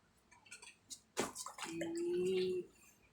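Water sloshes and drips around banana leaves set to soak with foam, with soft splashes and then a brief trickle, close and fairly quiet.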